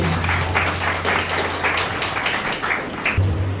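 Audience applause at a karaoke musical evening in Ponda, Goa, a steady wash of many hands clapping for a few seconds, moderately close and continuous.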